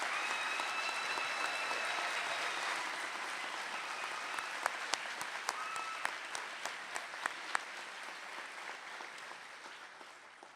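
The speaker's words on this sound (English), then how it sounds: "Let's give a giant round of applause," Audience applause fills a hall at a university pharmacy awards ceremony, steady and fairly distant for most of the stretch, then thinning into scattered individual claps toward the end.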